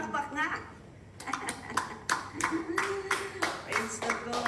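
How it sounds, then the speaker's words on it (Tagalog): A church congregation claps after a short lull, with many hands striking in quick, uneven bursts close by. A voice speaks at the start before the clapping takes over, and chatter continues underneath. "Pumalakpak nga."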